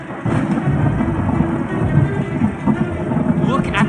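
Thunderstorm with continuous low rumbling thunder and rain-like wash, steady and loud throughout, with a brighter crackle near the end.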